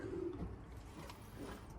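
Racing pigeon cooing inside a loft, a soft low coo near the start with faint rustling and background hum, quiet overall.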